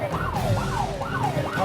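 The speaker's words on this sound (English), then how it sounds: "As soon as the moped driver hears the police siren, he speeds off" Police car siren wailing in repeated rising-and-falling sweeps during a pursuit of a moped, steady and fairly close, with no voices over it.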